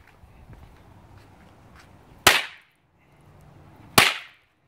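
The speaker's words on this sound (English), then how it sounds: "Now we got the torpedoes." Two torpedo firecrackers go off about two seconds apart, each a loud, sharp, close crack against a quiet background.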